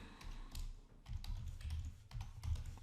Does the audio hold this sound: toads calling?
no